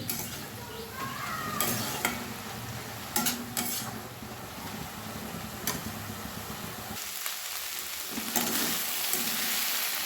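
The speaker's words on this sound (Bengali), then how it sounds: "খুব ভালোভাবে একটু শুকনো শুকনো করে ভাজা ভাজা করে নেব" Drumstick flowers with tomato and sugar frying in a pan sizzle steadily while a spatula stirs, giving several sharp scraping knocks against the pan over a continuous close hiss.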